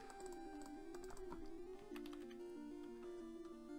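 Computer keyboard keys click faintly in quick irregular taps beneath louder Pokemon Blue game music, with no voices.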